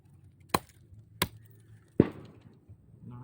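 Firewood is split by hand on a rural farm: three sharp, separate chopping strikes about two-thirds of a second apart, the last one heavier with a short woody crack, in quiet outdoor surroundings.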